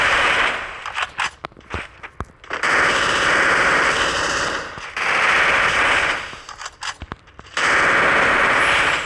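MP5 submachine gun fire in the Free Fire video game: several rapid bursts of automatic shots, each a loud clattering rattle, separated by short pauses and brief gaps of quiet.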